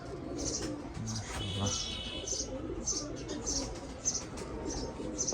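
A flock of teddy high-flyer pigeons keeps up soft, repeated cooing and regular bright chirps while someone talks over them at moderate volume.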